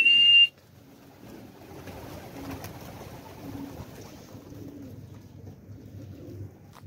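Pigeons coo softly and steadily amid faint outdoor ambience, after a brief sharp whistle-like tone at the very start.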